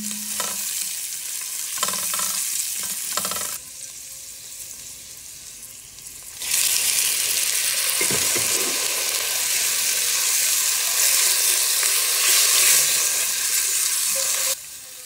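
Vegetables for lechon manok sinigang frying and being stirred in a pan: a steady, loud sizzle that drops briefly mid-clip, then returns strong with scraping stir strokes, and no voices.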